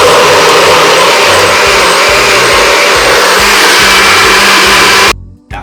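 A blender whirs steadily and loudly while blending a cucumber detox drink, running continuously before cutting off abruptly near the end.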